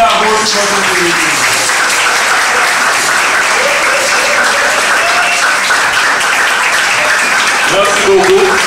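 Sustained, dense applause from the audience at a training workshop fills the whole stretch at steady loudness, with voices talking over the clapping.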